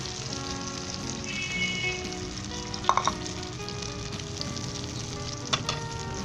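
Spring onion omelette sizzles in butter in a pan, a steady close frying hiss with a few brief sharper pops and spatters, no voices.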